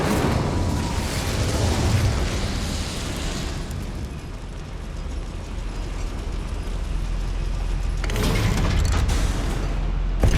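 An Incendio fire spell cast in Hogwarts Legacy inside a goblin mine produces a roaring, rumbling eruption of flame that sustains loudly, eases somewhat midway, then surges again in a fresh burst near the end, with no talking.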